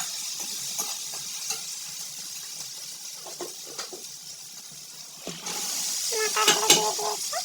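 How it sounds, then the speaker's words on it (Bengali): Boiled peas and potatoes sautéed in a pan with chilli and turmeric powder for vegetarian paneer ghugni, a soft sizzle under scattered scraping and stirring clatter, building to louder bubbling and clinks toward the end. "মটরগুলো দিয়ে দিয়েছে, সেদ্ধ করে রাখা মটর আলু। কষিয়ে নিচ্ছে।"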